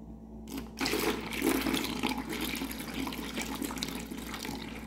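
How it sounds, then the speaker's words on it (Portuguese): Three litres of room-temperature water pour into a jug for homemade liquid soap made with non-chlorine bleach and vinegar, a steady close rushing splash that starts abruptly and keeps flowing without talk. "Agora eu vou pôr 3 litros de água em temperatura ambiente."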